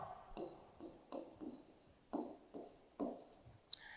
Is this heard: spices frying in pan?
no